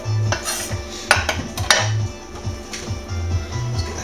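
Metal utensils scrape and clank against a pan while seafood pasta ingredients with garlic are pushed aside, giving a close run of busy clatters and clinks with no talking.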